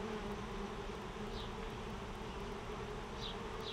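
A continuous, close hum of many honey bees surrounds an open backyard hive during a frame inspection, with occasional bees zipping past nearby.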